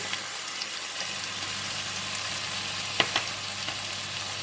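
Beef and kailan stir-frying in a pan, a steady loud sizzle throughout with a couple of sharp clinks of a utensil against the pan near the end.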